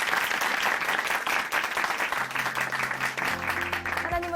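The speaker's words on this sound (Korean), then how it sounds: "앞으로도 다른 분들에게도 이 복음 전하시라고 우리 박수 보내드릴까요?" A church congregation claps warmly and continuously, a dense even wash of applause, with soft musical tones entering near the end.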